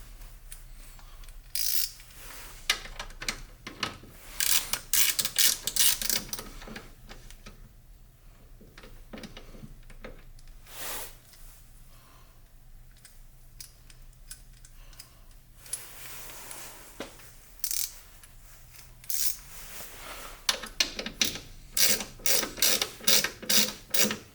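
A hand ratchet clicking as it tightens a bolt on a BMW M3/M4 (F80) coolant expansion tank, bursts of quick close pawl clicks separated by pauses and quieter handling noises.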